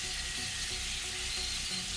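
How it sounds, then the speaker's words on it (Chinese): Potstickers pan-fry in oil over medium heat with a lid at hand, giving a steady, close, continuous sizzle and crackle throughout with no talking. "中火大约煎3-4分钟，就是这样黄黄的。"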